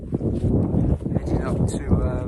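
Wind gusts across an overcast, exposed stretch of Dartmoor moorland, roaring steadily against the microphone while someone talks over it.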